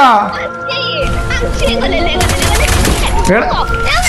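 Rapid bursts of gunfire in the game Free Fire Max, on the Bermuda map, crackle and pop continuously while excited voices talk loudly over the shooting.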